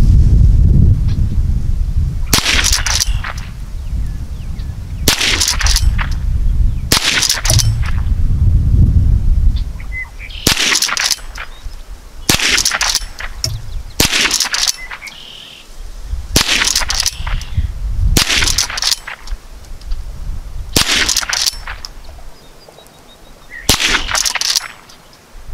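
Repeated rifle shots from a Henry Small Game Carbine, Model H001TLP, fired outdoors at a steady pace, each a sharp loud crack with a brief ring, roughly a dozen in sequence with no talking.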